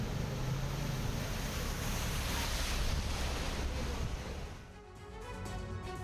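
Vehicles pushing through a flooded road during monsoon rains, a steady loud wash of churning water and splashing with wind-like rush, easing briefly near the end before swelling again, with no voices.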